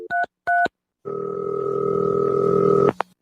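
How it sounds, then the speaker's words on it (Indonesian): A telephone keypad gives two short dialing beeps, then a steady, fairly loud tone holds for about two seconds before cutting off. "Telepon Guntur dulu ah."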